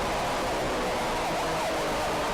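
A video game police siren from Need for Speed: Most Wanted wails, sweeping up and down repeatedly, faint and distant beneath a dense wash of hiss and noise.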